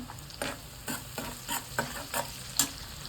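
Onions sizzle in a hot pan while a spatula stirs them in regular strokes, each scrape standing out over a steady close frying hiss, with no talking.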